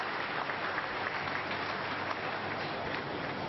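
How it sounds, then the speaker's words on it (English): A church congregation applauds during a Sunday healing service, steady dense clapping filling the room for several seconds without a break. "Clap for wonderful Jesus Christ."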